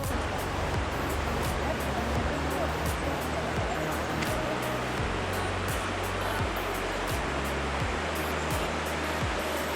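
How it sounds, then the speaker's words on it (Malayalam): A rocky mountain stream in the Great Smoky Mountains, flowing over rocks, gives a steady, close broadband rush of water throughout, with low rumbling underneath. "നല്ല പാറകളൊക്കെ ആയിട്ട് നല്ല ഭംഗിയുള്ള ഒരു അരുവി തന്നെയാണിത്"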